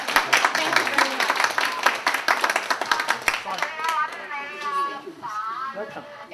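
Warm welcoming applause from an audience at a charity drive event for the president of a charity society, dense clapping loud and steady at first, then thinning as voices rise and talking takes over.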